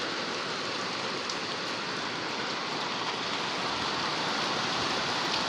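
Small hailstones fall in a hailstorm in Saudi Arabia, producing a steady, dense hiss of tiny impacts that stays even throughout with no breaks.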